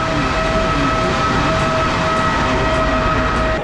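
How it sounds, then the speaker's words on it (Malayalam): A train arrives at the busy Florence Santa Maria Novella station, a loud, continuous rumbling roar of rolling rail cars with a steady high whine running through it, with no voices. "അങ്ങനെ ഫ്ലോറൻസിലോട്ടുള്ള നമ്മുടെ ട്രെയിൻ എത്തി."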